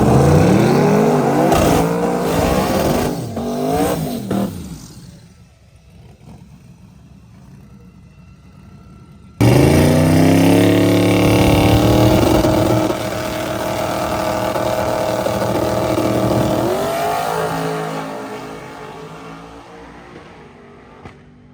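A twin-turbo Camaro drag car makes a loud pass at the track. The engine revs hard and climbs through gears, then cuts out abruptly before roaring back in a sustained high-power run that slowly fades.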